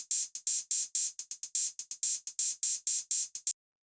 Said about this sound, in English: The next thing I have here are these 808 hi-hats,